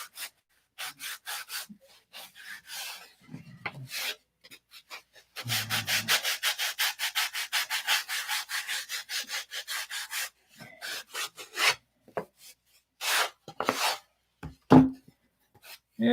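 Hand sanding of a wooden model airplane part, a close, dry rasping rub repeated in quick strokes, with a long steady burst of rapid back-and-forth scrubbing in the middle and shorter scattered strokes around it.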